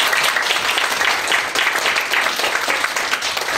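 Sustained audience applause after a mathematics education lecture ends, a dense, steady wash of many hands clapping at even loudness throughout, with no talk over it.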